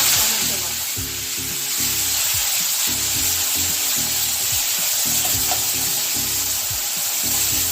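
Onion paste frying in oil in a pan for fish egg curry, with a loud continuous sizzle and hiss and rhythmic low knocks of stirring.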